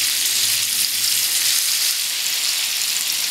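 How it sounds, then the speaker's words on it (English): Halved peaches fry in a pan with sugar, giving a loud, steady, even sizzle throughout with no speech. "Now we're going to continue cooking the peaches until the other cut side is golden brown"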